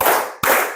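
A primary-school class claps together in a clap-count exercise, with two quick group claps close together in a classroom.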